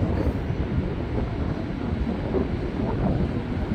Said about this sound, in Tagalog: it's windy and breezy very